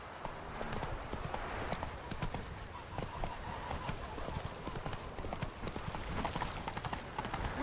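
Geralt's horse Roach from The Witcher 3 clip-clops along in a steady, close hoofbeat rhythm, with game dialogue voices speaking over parts of it.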